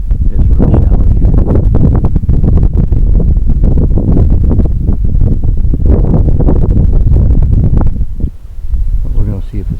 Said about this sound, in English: that wind is pushing me